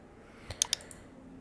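Two or three faint, sharp computer mouse clicks in quick succession, close and quiet, over low room hiss.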